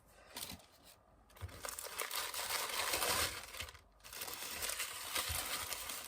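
Untaped gift wrapping paper crinkles and rustles steadily for several seconds as it is unwrapped, close and fairly quiet, with brief pauses between bursts of handling.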